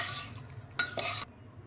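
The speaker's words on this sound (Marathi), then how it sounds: "आता हा जो तांदूळ आहे ह्याच्यात सगळं मिक्स करून घेऊयात आपण." Rice is stirred with ghee in a pan while cooking baby potato pulav, giving a short scraping, sizzling stir of about a second with a spoon against the pan, then quiet.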